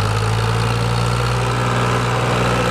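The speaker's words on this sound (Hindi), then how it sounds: "ये है पावर ट्रैक 439। इसकी परफॉर्मेंस देखते हैं ट्रॉली के अंदर" A Powertrac 439 tractor pulls a loaded trolley, its diesel engine giving a loud, steady, close-up drone with a strong low hum and constant vibration, with no voices.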